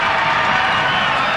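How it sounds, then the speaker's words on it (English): An enthusiastic soccer crowd at a 1999 Rochester Rhinos Open Cup match roars in a continuous, loud wash of cheering, with no break over its brief span. "Every Rochester touch being cheered by this enthusiastic crowd"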